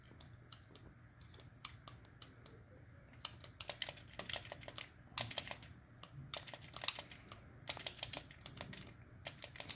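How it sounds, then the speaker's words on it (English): An arcade-style joystick controller played on an Intellivision FPGA setup gives off quick, light plastic clicks in irregular bursts. They are faint and close, growing busier toward the end. "you guys could probably hear the clicking of the,"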